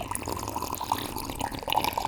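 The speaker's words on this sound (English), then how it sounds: "it gave these extra sounds that really sounded like sort of water droplets in a cave or a gorge or something like that" Resampled slurp sound processed with a Crisp Rumble preset into a cave-like water droplet texture: scattered bright drips and plinks over a dense, steady wet bed, close and fairly loud throughout.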